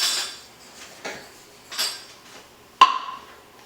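Metal cutlery clinks and rattles in a kitchen while a knife is fetched, with a few soft clatters followed by one sharp, bright ring near the end; close and fairly quiet, with no talking.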